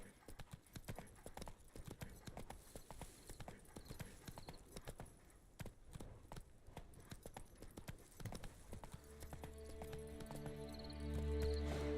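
Steady clip-clop of horse hooves from the video game The Witcher 3 plays close and continuous for the whole stretch, and a low tone swells in near the end.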